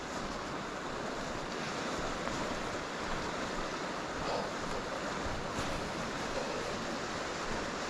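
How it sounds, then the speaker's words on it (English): Choppy river water rushes steadily at Allensford Park, a constant broadband wash with no distinct splashes, fairly faint and uniform throughout with no talking. "river's running quite choppy there now"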